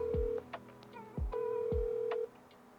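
Outgoing phone call ringback tone, a steady electronic ring repeating in two long pulses, close and clear with faint thumps between.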